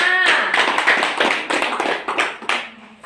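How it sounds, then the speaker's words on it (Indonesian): Applause from a class of schoolchildren for a student group in a classroom: a dense, fairly loud patter of many hands starts just after a brief voice and carries on unevenly, thinning toward the end. "tepuk tangan dulu untuk kelompok"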